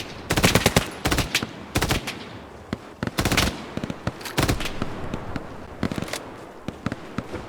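Rapid bursts of automatic gunfire and scattered single shots in the World War II shooter Hell Let Loose, loud and close, with short pauses between volleys.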